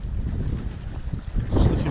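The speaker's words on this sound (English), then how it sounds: "Sorry about the wind, by the way." Wind at a reservoir on a breezy winter day buffets the microphone, a loud, rumbling low roar that swells and gusts throughout the short stretch.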